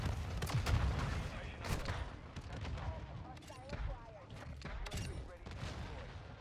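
Shotgun blasts from Snakeshot loadouts in Call of Duty: Modern Warfare II crack out repeatedly in a chaotic firefight, sharp booming shots mixed with distant gunfire and explosions, while a player talks over the action.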